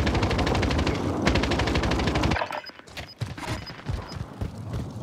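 Machine gun fire rips up through the floor from an underground shooter in Call of Duty: Modern Warfare, a loud rapid stream of rounds that cuts off after about two seconds, followed by scattered sharper shots and clanks.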